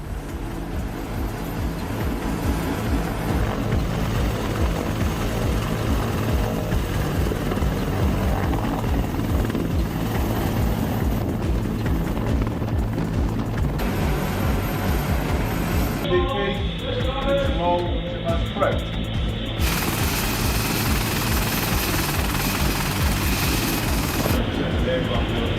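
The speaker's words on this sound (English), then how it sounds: "some helicopters return to the ships to reload and refuel for the next alert" AH-64 Apache military helicopters fly over the Strait of Hormuz near ships, a steady, dense rotor roar that fills the whole stretch loudly and continuously without letting up.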